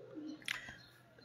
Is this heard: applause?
no